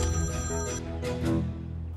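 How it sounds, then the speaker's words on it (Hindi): A telephone rings in a dramatic indoor scene, its electronic tone sustained and fairly loud over a steady musical background before fading after about a second and a half. "सुहान का फोन है।"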